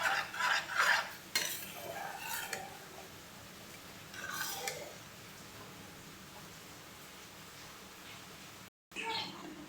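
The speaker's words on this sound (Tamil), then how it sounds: "இதை சேர்த்துட்டு நல்லா மிக்ஸ் கொடுத்துக்கலாம்." A spoon stirs sabudana payasam in a cooking pot, giving soft scraping and clinking bursts close by in the first few seconds, then a faint, steady background hiss.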